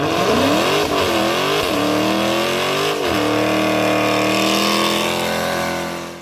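American V8 engine of a Dodge Charger revving hard, a loud rumbling roar with pitch sweeping up and down twice before settling into a steady high drone, close and alone.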